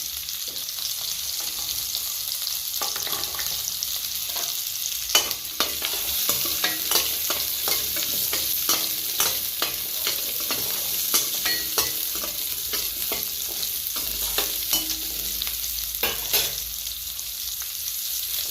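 Garlic fries in hot oil for a Tamil egg curry, a steady sizzle broken by repeated scraping stirs of a spoon against the pan, close and continuous with no talking.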